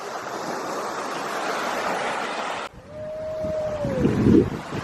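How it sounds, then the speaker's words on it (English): Wind blows off Jenny Lake in Grand Teton, a steady rushing buffet against the microphone that cuts out abruptly, leaving a thinner gusty whoosh with a brief whistling tone. "The wind is coming off the lake."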